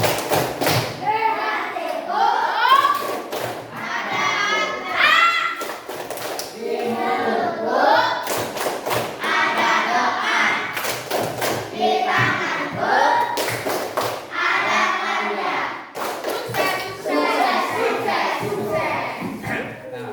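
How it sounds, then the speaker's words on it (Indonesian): A class ends a lesson with the rhythmic tepuk sukses clapping chant, bursts of patterned hand claps alternating with children's chanting voices in an indoor classroom. "kita tepuk sukses dulu. Oke, tepuk sukses."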